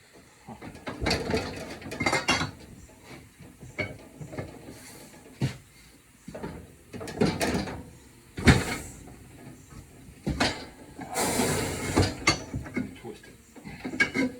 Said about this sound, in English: It's an antique tire machine here, fellas.